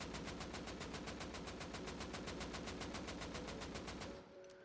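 Sustained automatic AK rifle fire in Rust Console Edition, a rapid, steady burst of evenly spaced shots lasting about four seconds before cutting off abruptly.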